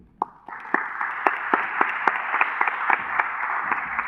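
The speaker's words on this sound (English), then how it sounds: "maybe you could do one last round of applause for all of those worthy winners" A modest conference audience gives a final round of applause for prize winners, with distinct, fairly sparse claps standing out over a softer bed of clapping throughout.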